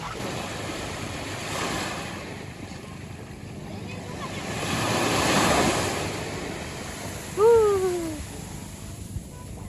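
Sea waves rolling in and breaking on a beach on a family morning by the water, broad surging washes that rise and fade, one swelling louder midway, with a brief tonal call near the end.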